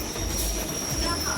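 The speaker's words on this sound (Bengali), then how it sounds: "আমরা এখন শিয়ালদা ট্রেনে উঠে গেছি" A train bound for Sealdah rumbles steadily with a low rolling drone and a thin high squeal from the wheels on the rails, heard from inside the carriage.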